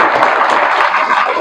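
Applause from an audience at a graduation ceremony for defence forces graduates, a dense steady wash of many hands clapping that fills the whole short stretch without a break.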